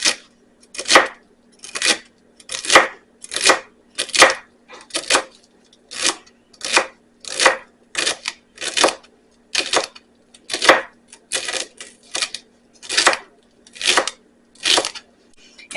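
A knife chops and minces celery on a cutting board in a steady run of crisp, close knocks, about one or two each second for over fifteen seconds, with no talking over them.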